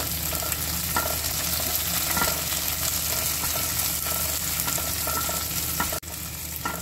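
Chopped garlic and soaked cashews frying in a pan, a steady dense sizzle with faint stirring clicks, close and continuous, briefly dipping near the end.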